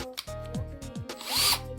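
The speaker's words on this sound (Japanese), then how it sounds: "ドリルで穴を開けていきます。" A Bosch cordless drill bores holes into a part for a hose fitting, giving a close, loud motor whine with a couple of short rising spin-ups and a brief higher-pitched bite into the material.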